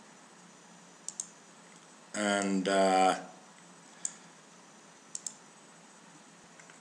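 A computer mouse clicks quietly in the testing software, first a quick double click, then a single click and a later double click, with a brief spoken word in between.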